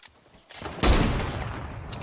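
Weapon fire in the Fortnite video game: a sudden loud burst of gunfire after a quieter start, followed by sustained rattling shots and noisy game ambience with no talk.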